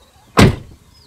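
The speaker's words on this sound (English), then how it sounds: "Solid doors, you can hear when they're shut." A single solid thud of a Volkswagen T-Cross R-Line car door shutting, close and sharp, then quick fade to quiet.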